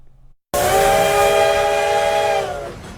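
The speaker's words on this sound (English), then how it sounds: "This coal-fired locomotive rode the tracks for the final time." A coal-fired steam locomotive on the Durango & Silverton Railroad sounds a loud, sustained chime whistle. It holds steady for about two seconds, then tapers off into rumbling background noise.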